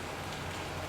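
Steady rainfall in the Batman: The Telltale Series video game, a dense, even hiss of drops filling the whole short stretch with no voices over it.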